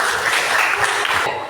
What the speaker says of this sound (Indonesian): Kasih tepuk tangan buat Tony